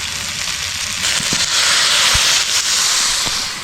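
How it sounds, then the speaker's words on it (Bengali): Water poured onto sautéed vegetables in a hot pan sets off a loud, close, broadband sizzle that swells and stays strong, with a few crackling pops. "আমার সবজি কষানো হয়ে গেছে এবার জল দিয়ে দেবো"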